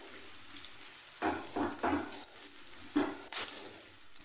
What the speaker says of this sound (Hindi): इसको फ्राई कर लेते हैं पहले।